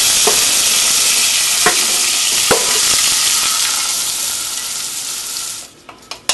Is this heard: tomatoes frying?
yes